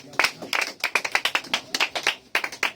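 A church congregation claps in quick, uneven bursts, many hands striking close together in a lively rhythm that keeps going with only brief gaps.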